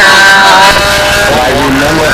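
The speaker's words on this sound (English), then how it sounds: "You can hear the engines picking up RPM at the top of the loops the way it should" A Jett 50 glow engine on a control-line model airplane screams loudly with a high rising and falling whine as it picks up RPM through loops, close and continuous with talk mixed in.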